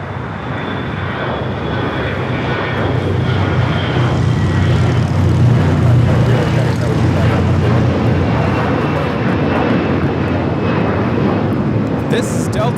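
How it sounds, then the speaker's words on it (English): Delta Airlines A321 taking off from LAX bound for Atlanta, a loud, steady jet engine roar holding strong throughout with a deep rumble underneath, close and sustained. "This is Delta Airlines 715 taking off to Atlanta on the A321"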